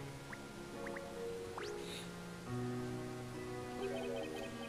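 Water drips onto potted plants in the Professor Layton vs Ace Attorney video game, a few short, bright drips and small liquid squishes over soft game music.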